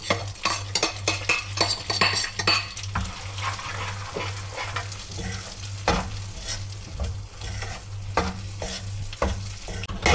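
Besan (gram flour) roasts in hot ghee for ladoo while a spoon scrapes and stirs the pan in repeated strokes, close up over a soft continuous sizzle, with no talking.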